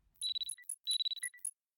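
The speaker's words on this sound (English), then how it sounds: "The alarm is ringing." An alarm rings in two short bursts of bright, high electronic chirps and tinkling tones, fairly faint, with brief silences between, alone without talk.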